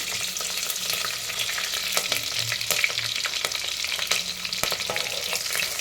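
Cut green chilies sizzle and crackle steadily in hot oil while a coconut milk rice dish is being prepared, a dense, continuous frying hiss close up with occasional stirring clicks.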